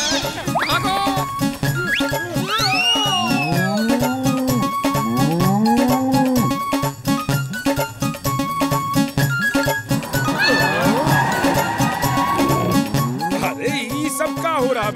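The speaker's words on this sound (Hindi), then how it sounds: "इस भैंस को चाट खाने का शौक है। देखो कैसे खा रही है।" An animated buffalo eating chaat in a cartoon scene, with several drawn-out moos and grunts over a busy background of jingling tinkles and music, loud and continuous throughout.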